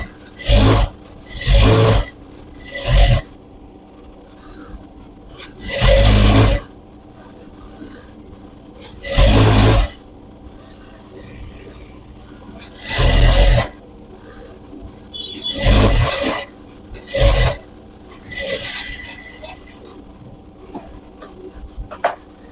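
A sewing machine stitches fabric for an umbrella-style chaniya skirt in repeated bursts of steady whirring, each one to three seconds long, with quiet pauses between, close and fairly loud, with no talk.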